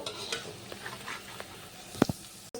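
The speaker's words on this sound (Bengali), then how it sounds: "ওই তেলে আমি পনিরটাও হালকা করে ভেজে নেব" Paneer fries lightly in hot oil with a soft, low sizzle, punctuated by a couple of clear knocks of a utensil against the pan near the end.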